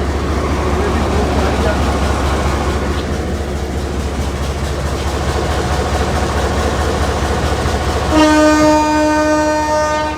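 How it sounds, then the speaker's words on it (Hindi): A Chenab Express train sounds a long, steady whistle at departure from Sargodha railway station, a loud sustained tone rising over the constant rumble of the idling train and platform bustle near the end. "और अभी फाइनल विसल होगा"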